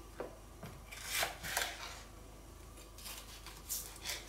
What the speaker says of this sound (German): Oder auf die grobe Reibe reiben.